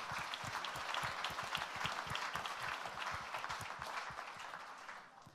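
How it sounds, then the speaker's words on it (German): Audience at a crowdfunding conference poster session claps for three teams, dense applause with a few distinct nearby hand claps standing out, tapering off toward the end. "nochmal einen herzlichen Applaus an alle drei Teams"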